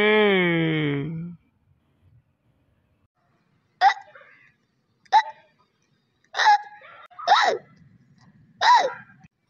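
Hiccups from an animated cartoon character: five distinct, close hiccups spaced roughly a second apart, each a short voiced catch, following a brief sustained vocal note at the start and otherwise near-silent gaps.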